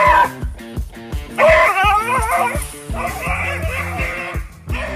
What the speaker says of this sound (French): L'aboiement de ce chien est certainement pire que sa morsure